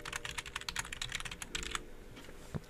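Quick, light keystrokes on a computer keyboard as a folder name is typed, a fast run of close clicks that stops, followed by one heavier key tap near the end.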